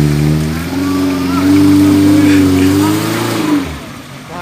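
A Suzuki Jimny off-roading engine revs loudly and close, its pitch rising and wavering through sustained throttle before dropping off, with voices shouting over it.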